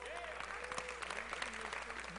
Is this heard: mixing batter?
no